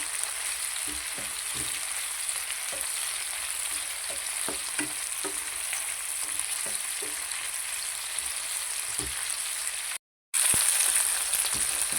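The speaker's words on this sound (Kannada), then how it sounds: "ಇದನ್ನು ನಾವು 3 ನಿಮಿಷ ಫ್ರೈ ಮಾಡ್ತಾ ಇರಬೇಕು." Capsicum and onion frying in a pan give a steady, dense sizzle, with occasional soft stirring scrapes. A brief dropout leads into a louder burst of sizzling near the end.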